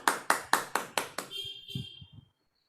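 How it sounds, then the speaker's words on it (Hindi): Clapping to welcome baby Aadya at an online birthday and anniversary celebration: five sharp, evenly spaced claps, then a brief electronic tone and some muffled bumps before it cuts off. "तो फिर एक बार तालियों से बेबी आद्या का स्वागत करिए"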